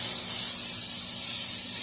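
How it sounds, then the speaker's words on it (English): A can of canola oil cooking spray lightly greases a baking pan for gooey butter cake, giving a close, steady hiss that runs without a break for about two seconds with no talking. "And I'm spraying this with a canola oil spray."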